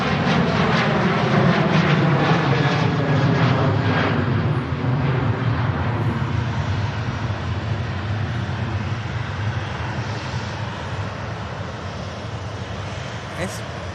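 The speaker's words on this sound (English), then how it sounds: "Meanwhile, Ryanair departing." A Ryanair jet airliner departing Manchester Airport, a loud, steady engine roar with a gradually shifting whine that slowly fades, heard from nearby with voices talking over it.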